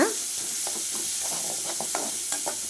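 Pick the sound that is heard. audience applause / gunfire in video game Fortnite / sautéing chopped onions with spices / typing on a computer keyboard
sautéing chopped onions with spices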